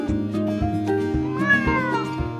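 A thin, scraggly cat meows repeatedly, several clear, drawn-out cries close by in quick succession, loud and alone with no speech.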